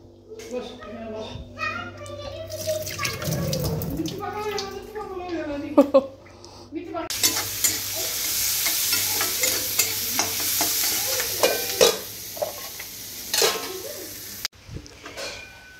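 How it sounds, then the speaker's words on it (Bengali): Rice is stir-fried in a pan with onion, green chilli and peanuts, giving a sustained sizzle and scraping stir in the second half, after a stretch where a child and an adult talk over a faint background hum. "ভাবছি একটু ভাত ভাজা করব, এই পেঁয়াজ, কাঁচা লঙ্কা, একটু বাদাম এসব দিয়ে"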